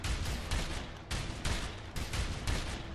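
Sustained gunfire in the game A Way Out, several long rattling bursts with short gaps between them, fairly loud and with no talking.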